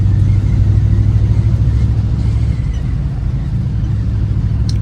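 A 1951 Ford Victoria car drives along with a loud, steady low engine rumble that holds evenly throughout and eases slightly partway through.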